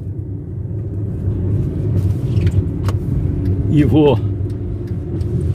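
A car cruising along the Juquiá–Sete Barras highway in Brazil, its steady road rumble and engine drone continuous throughout while someone talks over it, with a brief rising engine note as the driver shifts down.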